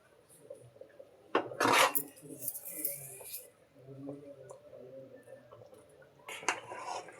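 Palathalikalu rice noodles stirred in a cooking pot, with a loud scrape and clatter of a spoon against the pot, a second burst of knocking near the end, and a low simmering bubble underneath.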